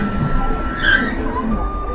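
An electric train on a Hokkaido line pulls into a station, a steady low rumble of wheels and motors with a brief high squeal or tone, fairly loud and close.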